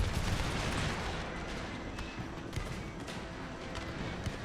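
Musket volleys from the Empire Total War strategy game, a Swedish Empire campaign battle, rumble as a dense, continuous fusillade of overlapping shots and distant booms at moderate loudness, with no talking.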